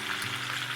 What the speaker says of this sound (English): And more of that beautiful sizzle